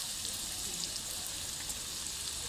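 Turmeric sizzling in hot oil while a Bengali rohu fish-head curry is being cooked, a steady close crackling hiss that carries on alone without pause.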